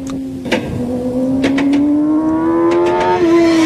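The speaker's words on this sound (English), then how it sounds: "rider is late on the gas and gets very hard sudden acceleration out of the turn" A motorcycle accelerating hard out of a turn on a track, a loud, close engine whose pitch climbs steadily through the revs with brief sharp clicks and bursts along the way, no talk.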